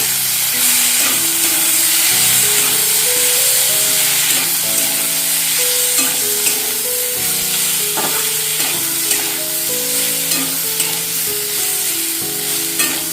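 Green chili paste frying in oil, a close, steady sizzle with repeated scraping stirs of a spatula, continuous and fairly loud, with soft musical tones underneath.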